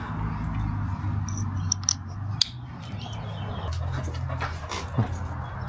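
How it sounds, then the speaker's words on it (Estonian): A dog whimpers and whines softly in short high yips over a steady low rumble of a moving vehicle, with a few faint clicks and pants scattered through. "Kuule, tubli koer oled."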